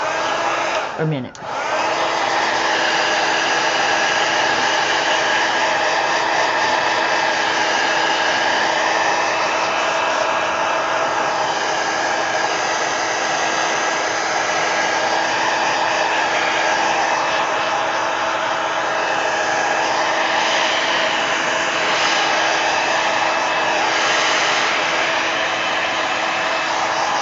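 A hair dryer blows steadily on a book page coated in wet matte medium, a loud, close, continuous whir that switches on at the start and runs unbroken, with only a brief spoken word near the beginning.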